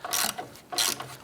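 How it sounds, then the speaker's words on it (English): Two quick bursts of ratcheting clicks from a socket wrench with an extension loosening an 8mm bolt between the horns on a 2005-2007 Ford Five Hundred, close and crisp, separated by a short pause. "Right up between the horns, there is an 8mm bolt. Use your socket and extension."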